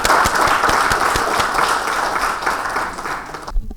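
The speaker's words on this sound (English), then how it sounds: "Let's please welcome him with a louder applause" Loud, close crowd applause greets a speaker taking the stage at an auto-industry panel event, many hands clapping densely and evenly before cutting off abruptly at the end.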